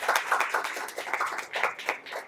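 An audience applauds at a numerology talk, a lively burst of steady clapping from many hands, close and fairly loud, with no voices over it.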